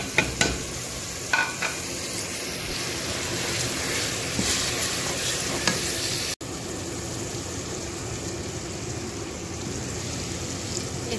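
Spice masala and tomato sizzle and fry in a pan while being stirred, a continuous loud hiss with scraping stir strokes and a brief break partway through, no talking.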